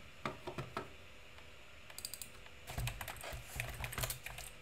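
Rapid bursts of typing on a computer keyboard while Python code is written, with close, crisp key clicks in irregular clusters and short pauses between runs.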